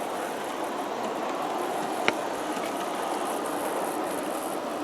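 A G scale model SP Daylight train runs on its track with a steady, continuous rolling hiss and rumble, fairly close, plus one brief click partway through and no voices.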